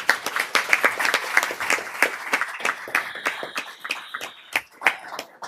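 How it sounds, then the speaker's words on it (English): Applause at a Hennepin County board meeting, a small group clapping with distinct, uneven individual claps close by, continuing steadily throughout. "Clap, clap, clap, clap, clap."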